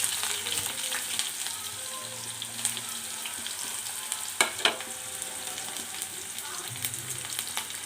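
Onions fry in hot oil with mustard seeds, cumin and dried chilies, giving a steady close sizzle and crackle with a few sharp pops and light stirring scrapes, without talk.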